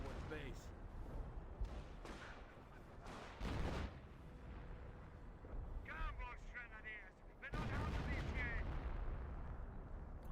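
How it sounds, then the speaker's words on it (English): Howitzer artillery fire in a strategy video game strikes a bunker, heard as repeated heavy booms and crackling blasts, with a voice talking over them. "Howitzer, where is it gonna go?"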